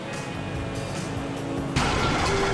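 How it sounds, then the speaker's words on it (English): A failing car engine in GTA V drones steadily and loudly, then surges rougher and louder near the end, with no talk over it. "Now that doesn't sound good. Damn, that's the engine, man."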